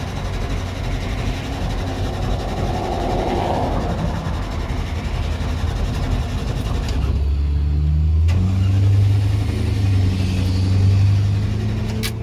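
A car engine in a roadside breakdown with possible fuel or carburettor trouble sputters and then catches about two-thirds of the way in, settling into a loud, low rumble with a few revs, following a stretch of rough background noise.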